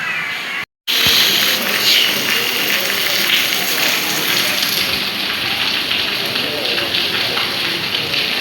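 Heavy monsoon-style rain pours steadily outdoors near a market, a dense continuous roar that stays loud throughout after a brief cut at the start.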